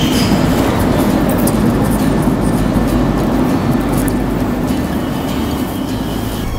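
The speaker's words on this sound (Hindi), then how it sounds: "यहाँ आ रही है, ट्रेन आ गई।" A metro train arriving at a station rumbles steadily close by, a loud continuous low roar with faint metallic squeals above it.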